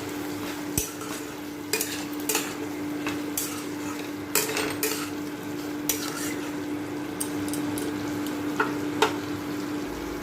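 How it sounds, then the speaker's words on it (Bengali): Masala with Kashmiri chilli powder and sugar being stirred and fried in a pan, soft sizzling under scattered sharp clinks and scrapes of a spoon against the pan, with a steady low hum throughout. "মশলাটাকে ভালোভাবে কষিয়ে নিচ্ছি"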